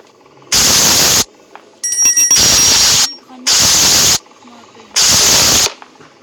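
In the horror video game Granny, a spray can fires four sharp hissing bursts, each roughly half a second to a second long, with short silent gaps between them and a faint electronic chime during the second burst.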